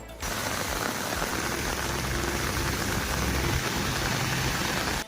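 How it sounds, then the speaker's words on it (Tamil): Heavy summer rain falls at night during a thunderstorm in Tamil Nadu, making a dense, steady, loud hiss of downpour on surfaces with no break for about five seconds. "இரவு 7 மணி அளவில் திடீரென கோடை மழை வெளுத்து வாங்கியது"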